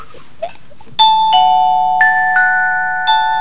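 A doorbell chimes close and clear, ringing out three ding-dong pairs of bright, sustained tones in quick succession against a quiet background.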